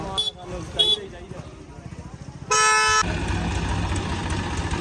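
A tractor pulls up at a flood-relief feed handout. Its engine rumbles low and close, a short horn blast sounds midway, and people talk around it.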